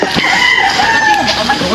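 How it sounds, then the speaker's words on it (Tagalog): Chickens cluck and squawk loudly nearby, with a drawn-out crowing call running over the clucking. "may manok dito"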